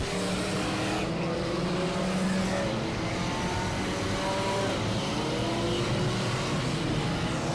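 Race cars run in an enduro race at Auburndale, with a continuous loud roar of engines rising and falling as cars pass, overlapping throughout at fairly close range.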